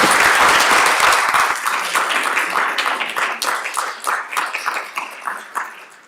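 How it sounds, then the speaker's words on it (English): An audience at a League of Women Voters candidates forum in Acton applauds the candidates. Dense clapping starts loud, then thins into fewer, more distinct hand claps that fade over six seconds. "Thank you, and a round of applause for these candidates."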